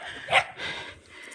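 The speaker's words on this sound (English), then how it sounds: "Now they're barking at me." Dogs on a farm give a short bark that stands out over steady breathing and low background noise, followed by a softer rough sound.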